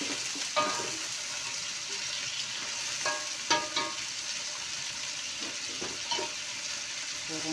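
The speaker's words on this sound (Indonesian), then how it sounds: "Goreng sampai matang dulu." Large shrimp fry in a pan for a stir-fried shrimp dish. A close, steady sizzle and hiss runs throughout, broken by occasional pops and crackles.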